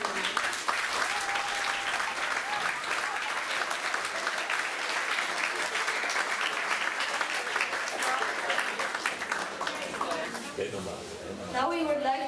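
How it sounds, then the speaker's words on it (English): An audience at a student-led climate school conference breaks into a big round of applause, dense continuous clapping that stays strong throughout, with faint voices near the close. "A big round of applause and many greetings to your school from Iceland,"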